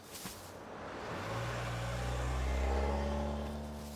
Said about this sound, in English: I think I hear Shackelford's car